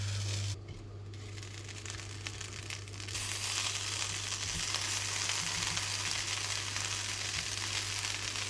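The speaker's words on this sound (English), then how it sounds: "Put them into a pan over a medium heat, and they're going to toast up nicely." Buttered bread toasts in a frying pan over medium heat, a steady close sizzle and crackle that swells after a quieter start, with no one speaking.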